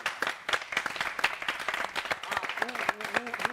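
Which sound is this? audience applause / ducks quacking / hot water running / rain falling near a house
audience applause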